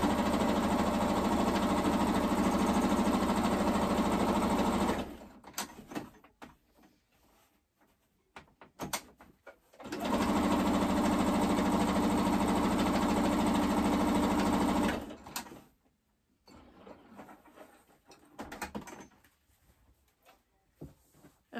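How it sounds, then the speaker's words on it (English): Sewing machine running steadily in two long bursts, top stitching seams along the sides of a pleated fabric face mask, with quiet handling sounds between the runs; close and loud, no talking. "going to make two seams, two top stitching seams right along each of these sides, leaving our pocket open."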